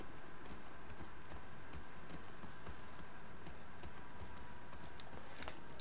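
Horse hooves clip-clop steadily in The Last of Us Part II, set in Seattle, a continuous even rhythm half buried in dense, hissing ambient noise with no talk over it.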